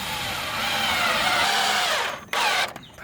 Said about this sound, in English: put 2 hands on the drill and then put your whole body weight behind it.